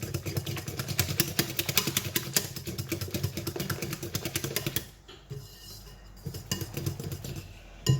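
An electric whisk beats a lumpy cream cheese mixture for cheesecake, a loud steady motor buzz with rattling for about five seconds, then quieter clinks before a brief final whirr.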